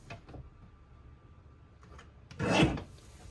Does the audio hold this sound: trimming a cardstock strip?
yes